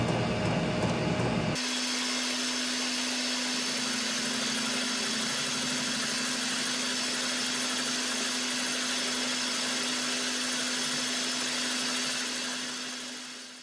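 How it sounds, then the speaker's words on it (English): A milling machine cuts a second slot in an ISO 30 arbor for slitting saws, a steady humming motor tone with a continuous cutting hiss that fades out at the end. "So I'll show you a bit of that as we machine the second slot."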